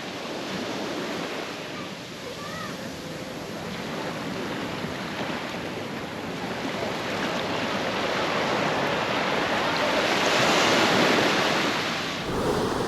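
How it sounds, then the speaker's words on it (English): Surf washing onto a beach at Alaminos, Pangasinan: a steady, broad roar of breaking waves mixed with wind, swelling gradually louder toward the end, with no voices. "I'm here at the beach, and I think this place is called Alaminos or so."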